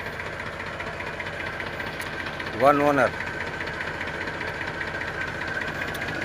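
A tractor engine idles with a steady, even rumble throughout, and someone speaks briefly over it partway through.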